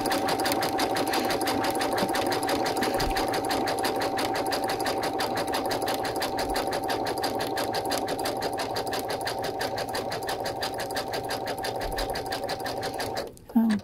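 A Brother sewing machine satin stitches an applique, its needle hammering in a steady, fast, close-up rhythm that runs unbroken for several seconds and then stops abruptly.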